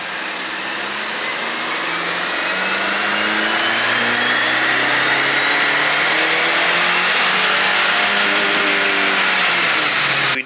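Tuned Chevy Silverado pickup engine accelerating hard to full throttle, with a loud, steady rising engine roar and climbing harmonic tones that build continuously across the run, no talking.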